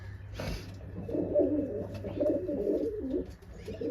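Soft, low cooing of a female pigeon beside a hatching egg rolls on steadily for several seconds, close by, after a brief rustle near the start.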